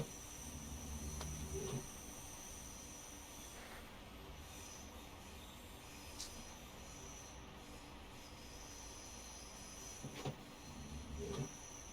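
A train runs in a train-simulator game, with a constant rolling rumble of wheels on rail and sharp squeals and hisses at intervals, steady and fairly quiet throughout.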